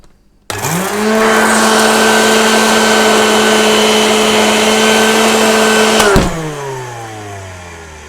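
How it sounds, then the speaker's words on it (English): A Hoover Junior U1104 upright vacuum cleaner with bearings in need of oiling switches on with a sudden roar and a rising whine. It holds a steady loud hum, then cuts off and winds down. "So the motor sounds really, really good on it."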